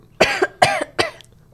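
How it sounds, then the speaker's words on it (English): Someone coughing from pub smoke gives three harsh coughs in quick succession, close and loud against near silence. "I tried hard to cough, but my voice isn't still the same."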